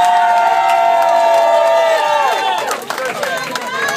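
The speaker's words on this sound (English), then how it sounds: "Give a big round of applause for Chicago right now." A crowd at a hip-hop show cheers and whoops loudly, a dense, sustained roar of voices with shouting over it that holds steady and then thins slightly toward the end.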